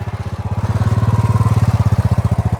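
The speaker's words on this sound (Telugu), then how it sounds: "ఇక్కడ వెనకాల నుంచి ఇంకో బుల్లెట్ వెళ్తుంది" Royal Enfield Bullet single-cylinder motorcycle passing behind, its steady, loud, low thumping exhaust beat pulsing rapidly and evenly throughout, close by.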